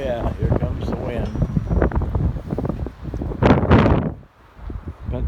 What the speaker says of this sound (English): Oh yeah, here comes the wind.